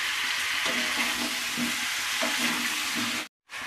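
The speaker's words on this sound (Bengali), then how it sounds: "এবার এই অবস্থায় একটু নাড়াচাড়া করে নেবো।" A Bengali-style chicken stew with a pinch of turmeric is stirred in a pan, giving a steady close sizzle with soft scraping strokes, then a brief drop to silence near the end.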